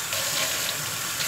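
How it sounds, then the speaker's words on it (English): Tap water runs steadily into a glass for a drinking glass of water, a continuous close hiss with no talking. "I'll get some water here"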